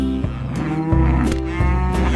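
A cartoon cow in an animated Old MacDonald-style nursery rhyme moos loudly, a long sustained call set against a backing of steady music.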